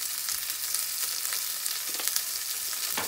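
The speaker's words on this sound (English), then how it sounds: "Not the onions, get the mushrooms sweating." Mushrooms sweat in a hot pan with garlic salt and black pepper, producing a continuous close sizzle with faint stirring scrapes and no talk.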